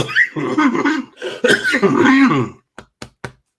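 A burst of harsh coughing and throat clearing, close to the listener, ending in three short, sharp coughs spaced a beat apart.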